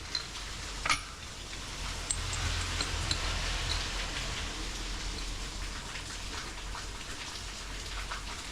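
Heavy rain pours down in a continuous, dense hiss of drops on surfaces, with one sharp tap early on and no voices.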